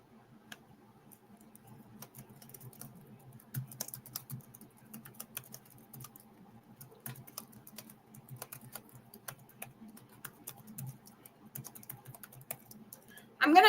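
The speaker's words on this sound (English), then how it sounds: "I'm going to try to type in" Typing on a computer keyboard, sparse irregular key clicks and taps, quiet and fairly close, with occasional faster bursts over a faint background hum.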